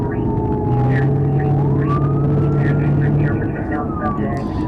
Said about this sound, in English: Let me see if I can turn down the siren noise